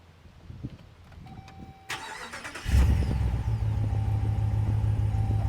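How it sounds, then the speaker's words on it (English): A 2022 Jeep Wagoneer Carbide with a Hemi V8 gets a cold start: a few quiet clicks and a chime, a brief starter crank, then the engine catches into a loud, steady, deep exhaust rumble at close range. "It's got such a good sound, that nice rumble of a V8 engine"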